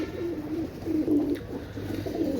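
A pair of Oman Teddy pigeons, a male and a female, coo steadily, with repeated low throaty rolls that rise and fall close by and no talk over them.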